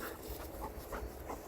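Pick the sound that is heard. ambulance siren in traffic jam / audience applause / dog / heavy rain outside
dog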